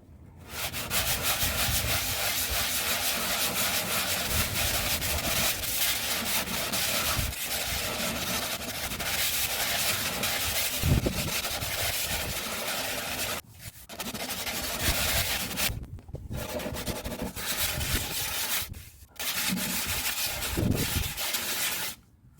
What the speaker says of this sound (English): So I'll carry on rubbing down, and we'll cut back in